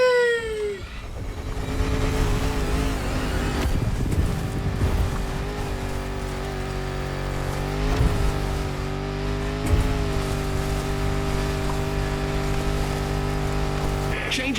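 A Land Rover Defender with a 400-horsepower engine drives off-road in The Crew Motorfest, its engine droning steadily with revving surges and some tire noise, loud throughout with game music and a voice speaking over it.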